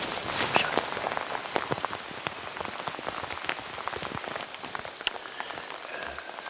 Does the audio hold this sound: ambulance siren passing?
no